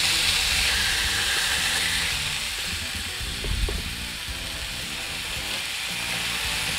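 A New York strip steak sears in a cast-iron pan over a charcoal fire, giving a steady, close, fairly loud sizzle and hiss that runs the whole time, with a small knock near the middle.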